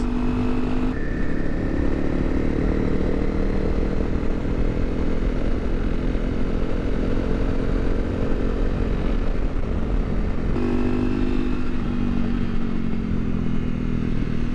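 A Honda CRF250L Rally motorcycle ridden on a cold road with wet, icy patches, its engine droning steadily and close throughout, with slight pitch shifts as the throttle changes and a rush of wind.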